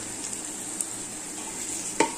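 Green chillies fry in hot oil in a pan for a simple spinach stir-fry, giving a steady, quiet sizzle with a single sharp clink of a utensil near the end.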